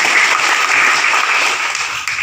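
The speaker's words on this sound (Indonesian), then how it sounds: "Tepuk tangan dulu" Audience applause at an Indonesian DPR member's community gathering, a dense, steady burst of many hands clapping throughout, fairly loud and fading slightly at the end.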